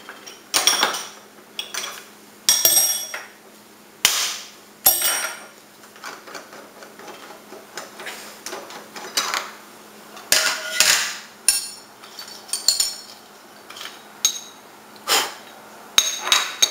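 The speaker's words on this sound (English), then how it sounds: "I'm going to put the end mill back in." End mill being fitted into a Bridgeport milling machine, a series of sharp metallic clinks and knocks close by, spaced irregularly with quiet gaps between, over a faint steady machine hum.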